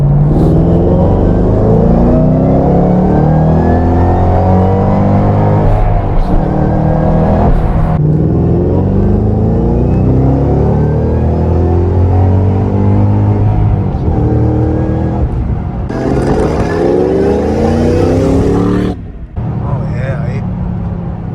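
A 2013 Shelby GT500 pulls hard at full throttle from 2,000 RPM for a long stretch, a loud continuous roar with rising whine, with a person talking over it throughout.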